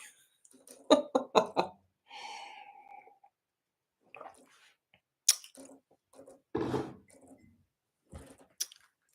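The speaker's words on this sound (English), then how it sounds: "I'm going to take a sip of coffee." A few quiet sips of coffee come in short slurping bursts between small clinks and handling noises, with brief pauses and no talking, recorded close up indoors.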